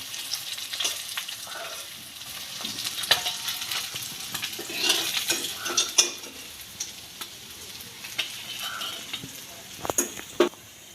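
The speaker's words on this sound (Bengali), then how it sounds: "এবার আমি মাছগুলো একটা একটা করে ভেজে নেব।" Chanda fish fry one by one in hot oil in a wok, a close, steady sizzle and crackle with intermittent sharp clicks and scrapes from turning the fish, lasting throughout without speech.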